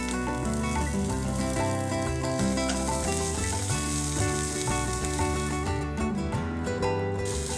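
Chopped capsicum sizzles steadily in a hot pan of cooking daliya salad, a loud continuous frying crackle and hiss with occasional stirring, heard alone without talk.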